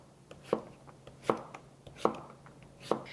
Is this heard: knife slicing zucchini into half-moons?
yes